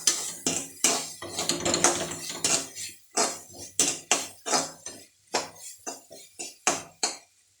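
A utensil stirs mushroom and coconut in a metal pan, making a quick series of loud, separate scraping clanks, dense at first and then spaced out more evenly.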